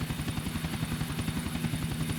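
A helicopter in the video game GTA Vice City drones steadily with rapid rotor chopping and a constant engine whine, loud and continuous throughout.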